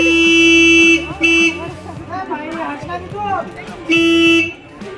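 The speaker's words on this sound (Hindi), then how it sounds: "तो हॉर्न मार के जो है लोगों को साइड कर रहे हैं।" A loud, close park train horn honks in a long blast, a short toot, then another long blast, with someone talking in between, at Eco Park Saoner, Nagpur.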